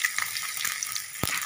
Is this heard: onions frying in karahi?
yes